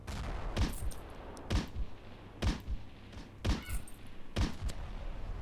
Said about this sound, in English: Someone's shooting at me from somewhere